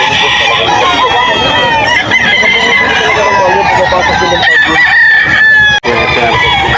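A Sweater breed rooster crows loudly at the busy Bocaue, Bulacan chicken market, one long crow over dense clucking from many fowl and steady crowd chatter.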